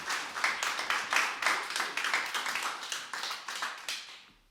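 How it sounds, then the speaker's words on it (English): Concert audience clapping steadily in a lodge for about four seconds, dense and close, fading at the end with no voices over it. "Thanks for clapping"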